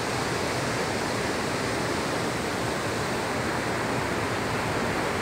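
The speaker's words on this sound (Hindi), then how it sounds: "और ऐसे में काफ़ी तेज बहाव है।" The Lafari waterfall in Surajpur district, Chhattisgarh, swollen in the rainy season with the fast-flowing Ren and Mahan rivers, gives a loud, steady broadband rush of falling and churning water with no pauses or voices.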